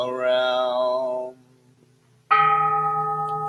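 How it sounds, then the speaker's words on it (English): A bell is struck twice during a Mahayana Buddhist ceremony. The first ringing tone decays into near silence before a second loud, close strike rings out with a long sustained hum. "Vowing that the sound of this bell pervades the universal"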